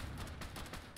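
Rapid burst of energy-weapon fire from a plasma pistol in the video game Fallout Shelter, a dense continuous volley of shots across a single second, moderately loud with no talking.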